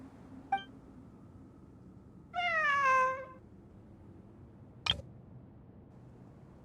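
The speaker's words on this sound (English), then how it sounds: "A cat?" A single video-game cat gives one clear, drawn-out meow against quiet background tone, with a few sharp clicks and ticks before and after.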